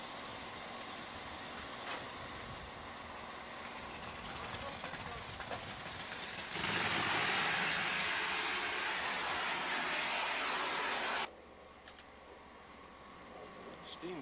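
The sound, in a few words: vintage engine running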